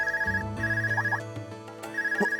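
A mobile phone rings in the video game Trails of Cold Steel, a repeating electronic ringtone in short bursts over a steady low musical drone, clear and fairly close.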